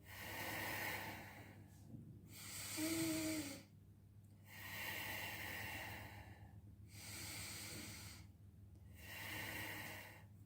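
A singer draws several slow, deep breaths through an open mouth, each a long airy rush of intake separated by short pauses, close and clear over a steady low hum.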